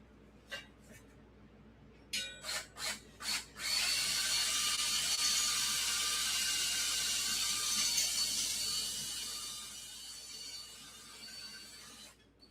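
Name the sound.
drilling out a rivet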